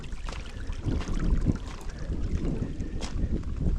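Breeze gusting over water on a mushroom-hunting hike in the Carpathians, a rushing, buffeting wind noise hitting the microphone with soft lapping underneath, fluctuating in strength.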